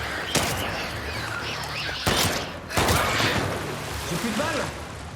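Gunfire in the video game The Last of Us Part II, sharp shots bursting out at about 0.4, 2.1 and 2.8 seconds amid dense game ambience with birdsong, loud and close, partly under talk.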